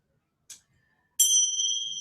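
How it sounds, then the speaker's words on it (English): A meditation bell or singing bowl is struck once to open an autumn-themed yoga practice, ringing out clear and close with a long, shimmering sustain after a brief soft tap. "I've remembered the bell"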